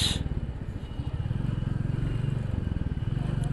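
A Royal Enfield Classic 350 motorcycle being ridden, its low single-cylinder thump pulsing steadily and close throughout, with a brief clatter at the start.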